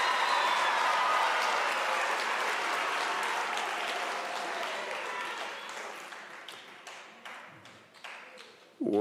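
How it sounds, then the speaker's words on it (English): Large audience applause at a university spring graduation ceremony in honour of the graduates, loud and sustained at first, then thinning into scattered individual claps toward the end. "the graduates deserve a very big round of applause."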